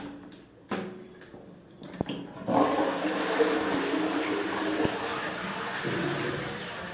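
A toilet commode flushes in a bathroom, a rushing, gurgling water surge that starts after a few knocks and handling sounds and runs steadily to the end.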